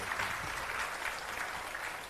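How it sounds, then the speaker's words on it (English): Audience applause for Rajdeep Sardesai at a book launch, a steady, moderately faint wash of clapping that holds evenly for about two seconds. "Ladies and gentlemen, a huge round of applause for"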